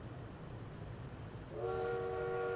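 A train horn sounds in the Workers and Resources: Soviet Republic game, a steady chord starting partway through and holding to the end, over a low rumble of rail traffic.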